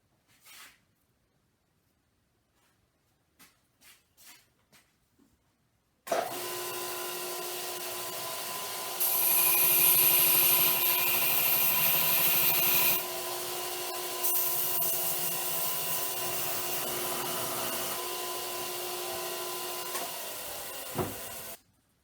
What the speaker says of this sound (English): Luckily, I have a belt sander.